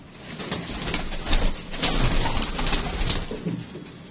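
Pigeons coo softly in a continuous, overlapping murmur, with repeated low calls rising and falling over a steady background of rustling.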